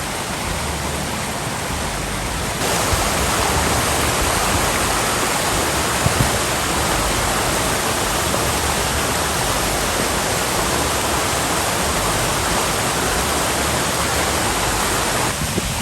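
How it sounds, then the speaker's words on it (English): Powerful waterfall on the Brecon Beacons with a lot of water falling, a dense, steady roaring rush heard close up throughout and nothing else over it. "First waterfall of the day."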